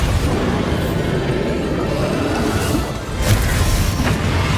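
Spell explosions from Bombarda and other combat spells in Hogwarts Legacy, a dense continuous roar of booming blasts with a brief dip and a sharper burst near the end.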